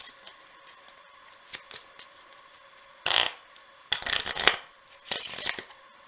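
Playing cards are shuffled for a card trick, a faint light riffle first, then several louder bursts of rapid flutter close by, separated by quiet handling.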